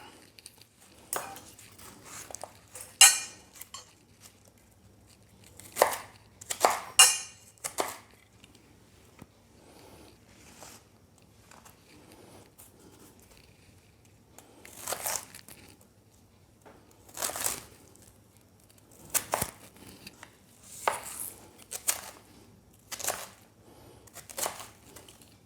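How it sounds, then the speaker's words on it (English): Knife slicing and dicing fruit for wine distilling on a cutting board, irregular clusters of sharp chopping taps separated by quiet pauses, close and crisp with no talking. "We're just going to slice it."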